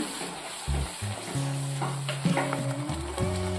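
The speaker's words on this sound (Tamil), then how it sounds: "இந்த வெங்காய பேஸ்ட்டை நல்லா எண்ணெயில் வதக்கிக்குவோம்" Onion paste frying in oil for a creamy egg masala curry, a steady close sizzle with scraping stirs and tonal clinks of a utensil against the pan, no talking.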